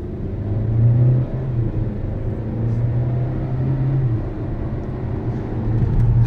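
A Cupra Formentor 1.5 TSI with DSG gearbox rolls forward slowly and then accelerates, giving a steady low engine drone heard from inside the car with a gradual rise in pitch and no talk over it.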